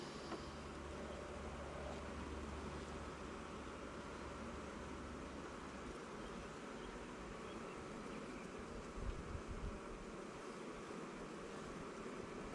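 Honeybees swarming over frames in an opened hive fill the air with a loud, dense, continuous buzz that holds steady throughout, close by and with no talking.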